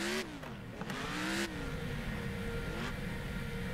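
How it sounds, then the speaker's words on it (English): Car engine in the video game Stuntfest revving hard, its pitch sweeping up and down in repeated surges over a steady loud drone, with no talking. "I'm like giving it way too much gas."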